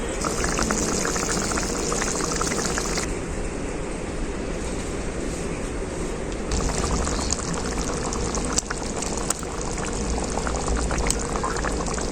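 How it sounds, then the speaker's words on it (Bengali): Fish curry gravy at a rolling boil in a pan, a loud, continuous close bubbling and churning that carries on throughout with no voices. "ঝোলটা খুব ভালোভাবে ফুটে গেছে"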